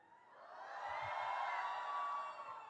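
Young audience in a festival hall shouting and cheering together, a broad crowd roar that swells and holds steady for a couple of seconds before easing off.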